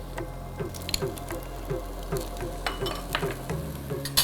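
Chopped red and yellow bell peppers tossed into a hot pan: soft crackling sizzle with light scraping and stirring clicks, close and steady over a low hum, with no talk.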